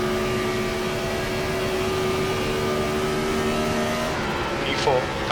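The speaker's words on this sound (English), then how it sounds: "we get the car screaming into turn 1" A NASCAR Gen 4 race car in a racing video game at Atlanta Motor Speedway, its engine droning loud and steady throughout with a sustained high whine, a short rise near the end.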